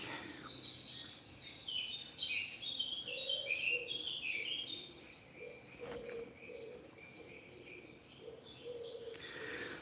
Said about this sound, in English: the birdsong's probably not appropriate for an Ecuadorian cloud forest. I think it's an English woodland.